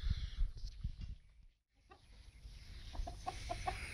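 Vanaraja chickens ranging free on a backyard farm cluck softly at a distance, with a run of short rhythmic clucks near the end over a low outdoor rumble.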